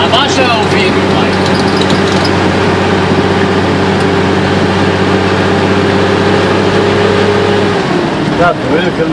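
Engine of a road vehicle idling and running at a traffic light on a highway, a steady low drone heard from inside the car, with people talking over it; near the end the hum cuts off and other noise takes over.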